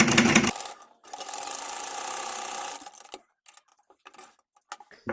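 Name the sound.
sewing machine stitching a baby kurti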